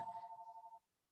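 A phone rings in a quiet room with a short electronic ringtone that pulses rapidly in a steady rhythm, then cuts off abruptly, leaving near silence.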